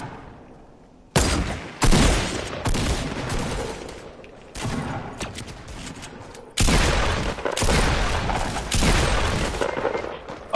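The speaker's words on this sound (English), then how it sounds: "Oh, somebody shot me too?" Loud bursts of gunfire in a multiplayer shooter video game, with sharp volleys of rapid shots starting abruptly, pausing, then resuming in dense, close, sustained fire.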